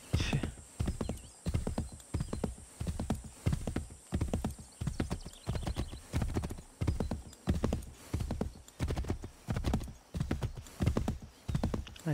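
A steady, rhythmic clip-clop of a trotting horse in Assassin's Creed 3 gameplay, evenly spaced hoofbeats close by and continuing for about twelve seconds, with a brief neigh mixed in.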